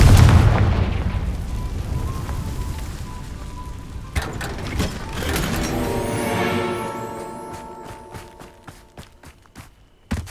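In the video game Hogwarts Legacy, a Confringo fire spell goes off with a heavy, booming explosion. The blast rumbles and fades over several seconds, followed by a crackle of smaller pops and debris.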